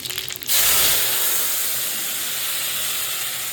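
A sudden loud hiss erupts as water hits hot oil, then settles into a steady, slowly fading sizzle.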